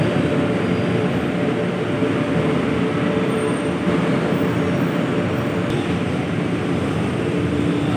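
A light-rail train pulls away from a station platform on the line toward Monumento, a loud continuous rumble and rolling roar that holds steady throughout.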